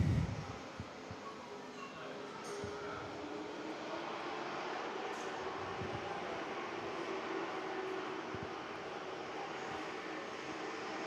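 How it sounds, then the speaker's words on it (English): A Jetstar airliner taxiing at Perth airport gives off a steady, broad jet-engine roar and whine that holds evenly throughout. It is heard from a moderate distance outdoors, with no voices over it. "Jetstar's ready to taxi"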